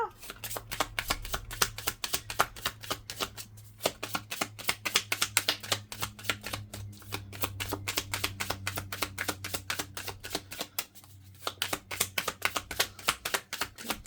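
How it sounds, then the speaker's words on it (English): Rapid riffling clicks of a tarot deck being shuffled repeatedly, close and steady, with a few short pauses between shuffles. "One more shuffle."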